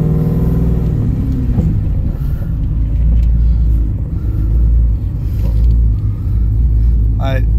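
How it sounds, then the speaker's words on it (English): Third-generation car fitted with a swapped 6L80 six-speed automatic, engine pulling steadily under part throttle with a loud, continuous low rumble and brief changes in pitch as the gears shift, heard from inside the cabin. "I just want you guys to just kind of pay attention to how crisp, how well it shifts"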